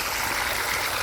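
Hot water drains out of a steaming processing tank during a clean-in-place cycle, making a steady, dense rushing hiss with no breaks.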